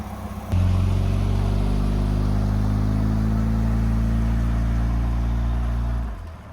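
Pontiac Fiero engine idling after a motor treatment, a steady low rumble starting abruptly, running evenly and loud up close for about six seconds before cutting off.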